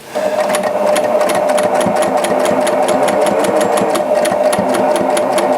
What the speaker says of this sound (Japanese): とにかくちょっと今縫ってきますね。